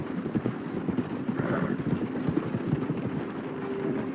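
Horse hooves clip-clop steadily in the Red Dead Redemption 2 video game, a continuous mid-close rhythm with a brief whinny partway through, over ambient game noise.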